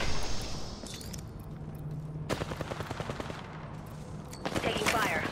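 Rapid automatic gunfire in Apex Legends rings out in dense bursts, with a steady rattling volley that carries through most of the stretch over game ambience.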